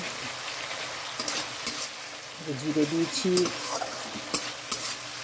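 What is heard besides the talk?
sautéing fish with tomato and spices in a pan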